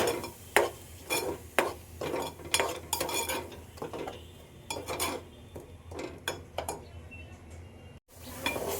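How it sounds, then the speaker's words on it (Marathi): Ground masala paste is stir-fried in a pan with a metal spoon, giving repeated sharp scraping and clanking strokes in an irregular rhythm over a faint sizzle, then a brief pause. "हे आता आपण परतून घ्यायचं आहे।"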